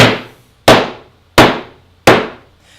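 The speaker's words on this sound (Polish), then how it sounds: "bierzemy młotek i po prostu napierdzielamy" Four sharp, loud hammer blows on wooden furniture being distressed, evenly spaced about two-thirds of a second apart, each ringing briefly before fading.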